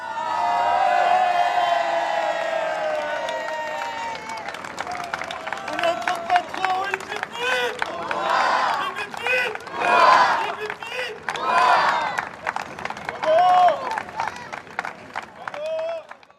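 A crowd gathered outdoors for Monaco's national day in 2018 cheers in rising collective hurrahs. Shouts swell in several waves over a rumble of voices, loud and close, with clapping mixed in.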